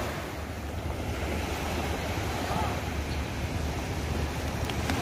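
Steady wash of ocean surf on a beach on Simeulue, a continuous broadband roar with wind noise buffeting the microphone and no speech.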